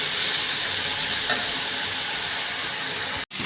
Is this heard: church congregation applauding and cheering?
no